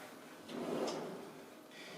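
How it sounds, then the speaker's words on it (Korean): A kitchen drawer slides out in one smooth, close pull lasting about a second, followed by a quieter second slide; the room is otherwise quiet. "그런데 서랍형은 좋은 점이 이렇게 쭉 꺼내서 내가 위에서 밑에 볼 수 있기 때문에"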